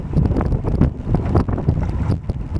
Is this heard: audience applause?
no